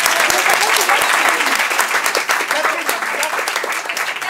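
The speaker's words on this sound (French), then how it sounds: "On peut l'applaudir très fort." Theatre audience at an improv comedy festival applauding loudly, dense sustained clapping filling the whole stretch with some voices underneath.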